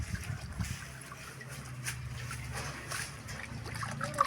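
Leafy greens rinsed by hand in water to get the sand out, soft sloshing and trickling close by, quiet and continuous with faint splashes throughout.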